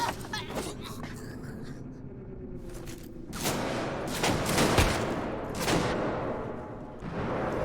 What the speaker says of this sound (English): They're shooting at you even if you can't see you